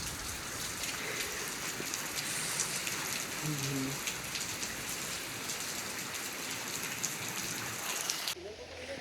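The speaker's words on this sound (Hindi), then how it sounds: "ये देखो गाइस बहुत तेज बारिश हो रही है" Heavy rain pours down steadily in Nainital with a dense, constant hiss of drops hitting surfaces, and a voice briefly murmurs beneath it.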